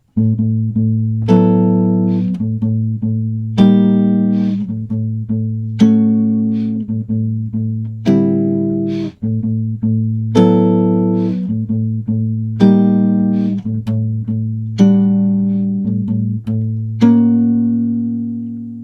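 Clean jazz guitar chords ring out one after another over a sustained low bass note, each strum decaying before the next, with no talking.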